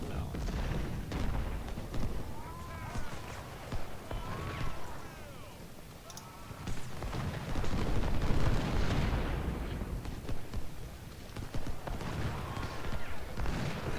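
Cannon fire booms through a video game battle from the American Civil War Confederate campaign, with repeated deep blasts and rumbling explosions at varying distances, mixed with battlefield din and scattered crackling gunfire.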